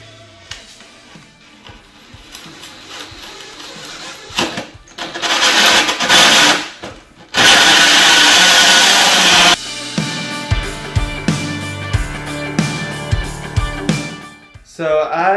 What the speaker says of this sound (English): I'm going to use a 2 1/4 inch hole saw to cut the holes